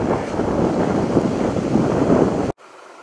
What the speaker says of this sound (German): Der Wind frischt auf.